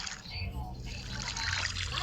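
Water splashing and trickling as a character swims in Minecraft, a steady wash of watery sound running under a person talking throughout.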